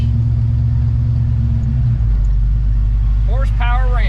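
Rumbling V8-style idle of a 1968 Camaro leaving a ranch car show in Geneva, Florida, a deep steady low drone that thickens midway, with a short voice near the end.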